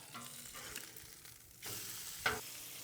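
A prime grade ribeye steak searing in a hot pan, with steady sizzling and frying that grows louder and crackles sharply near the end, with no one talking.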